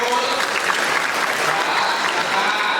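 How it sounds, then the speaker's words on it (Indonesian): An audience at an Islamic religious lecture breaks into hearty applause, a thick, unbroken patter of many hands clapping at fairly loud volume from start to finish. "tepuk tangan dong buat khusus"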